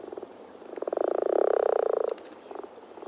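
A frog croaks in a long, loud pulsing trill lasting about a second, preceded and followed by shorter, quieter croaks close by.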